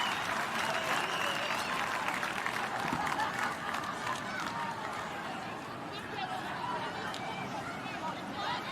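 A rugby crowd in Newcastle cheering and applauding for a local player at a women's match, a dense roar and clapping that swells then eases, with a commentator talking over it.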